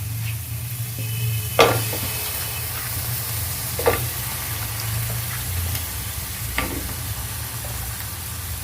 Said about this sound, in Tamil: இதெல்லாம் போட்டு எல்லாத்தையும் நல்லா வதக்கிக்கலாம்